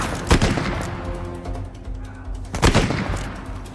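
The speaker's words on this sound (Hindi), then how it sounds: "अच्छा ये एक शॉट वाली गन है" Two loud, sharp gunshots from a single-shot gun in Uncharted: Thief's End ring out about two seconds apart over a steady game-world rumble.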